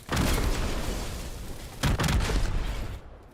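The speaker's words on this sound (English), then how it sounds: "If you shoot a gas pump or a fuel tank, they'll blow up." Gas pump blowing up in Fortnite Battle Royale Chapter 2: a loud, sustained explosive roar followed by a second booming burst near the end before it cuts off.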